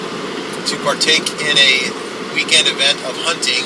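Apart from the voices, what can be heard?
car road noise while driving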